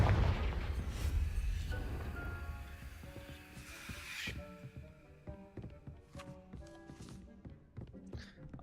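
A Confringo spell blast in Hogwarts Legacy erupts as a loud, rumbling burst in the opening seconds, then fades into quieter tonal game music with light tapping hits.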